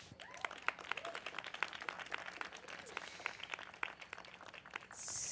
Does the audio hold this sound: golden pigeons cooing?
no